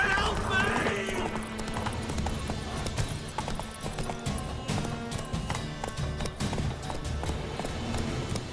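Horse galloping in the video game The Witcher 3: Wild Hunt, hooves clopping in a steady rhythm under music and game sounds, with a voice speaking over it.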